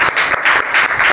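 Rhythmic clapping from a church congregation during Sunday worship, loud and close, with steady, regularly pulsing hand claps filling the room for a brief stretch.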